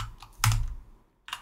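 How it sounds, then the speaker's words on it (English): Keys clack on a computer keyboard while typing in the Vim editor on a UNIX server: a few soft taps, one louder keystroke cluster, a quiet gap, then another burst of presses, close by. "And now whatever I type on the screen"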